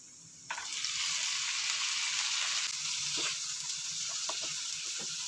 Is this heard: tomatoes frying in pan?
yes